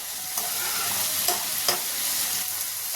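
Tomatoes sautéing in a pan for tomato chutney give a steady soft sizzle, with a few brief stirring scrapes standing out near and clear, and no voices.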